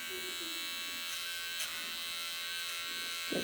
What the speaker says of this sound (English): I might just use this trimmer just to trim it so it's easier for me.